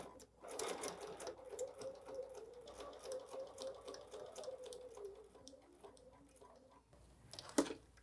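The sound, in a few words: sewing machine stitching quilting with gold thread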